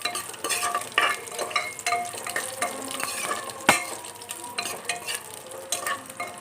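Raisins and nuts fry in a pan ahead of jeera rice pulao, with a constant bright sizzle and frequent close scrapes and clinks as they are stirred.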